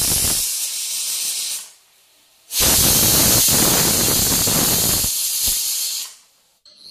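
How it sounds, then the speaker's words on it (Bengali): Pressure cooker on a gas stove venting steam in a loud, close, broadband hiss, two long bursts separated by a short silent gap, then fading out. "আমি প্রেশার কুকারটি গ্যাসের ওভেনের উপরে বসিয়ে দিই"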